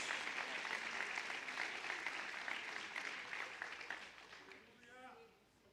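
Congregation applauding during a church service, a steady wash of many hands clapping that fades near the end as a voice rises over it, recorded faintly.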